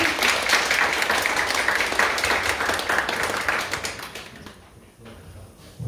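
Congregation applauding during a Friday night church worship service, brisk clapping from many hands at moderate distance that tapers off and dies away over the last couple of seconds.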